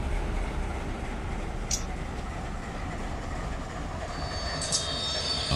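Train rolling past in the Run 8 train simulator game, a steady broad rumble of wheels on rail with brief high squeals of wheel flange, continuous and fairly close throughout.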